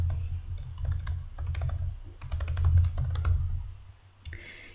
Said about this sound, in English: you're going to type the text inside of this box